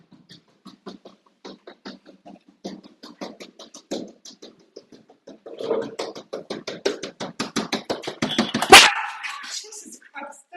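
A dog barks in a long run of quick, rhythmic woofs, quiet at first and then growing louder and denser, peaking in one sharp, loud bark near the end before a few softer barks.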